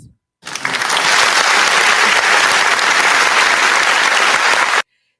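Loud, dense applause starts abruptly after a brief pause, holds steady for about four seconds, then cuts off sharply.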